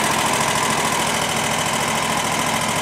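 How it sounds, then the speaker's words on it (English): A lawn mower engine runs at a steady close, loud drone with a fast regular throbbing pulse, unbroken for the whole stretch and heard alone without voices. "Get away from the mower."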